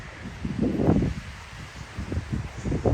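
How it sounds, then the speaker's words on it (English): Strong gusting wind rushes over a mountain trail on a stormy morning, broadband and uneven, with low roaring surges and rustling swelling and easing throughout. "It is a super windy day, as in a storm is coming later this evening."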